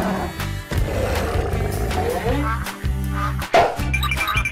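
A Godzilla roar sound effect plays as a loud, continuous, rumbling monster roar that fills the whole stretch, with a brief swell near the end.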